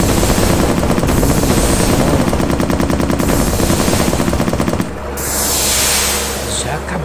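Rapid automatic machine-gun fire in the aerial combat game Lonely Ace, loud dense rattling bursts for about five seconds before cutting off into a rising engine-like whoosh and fading hiss.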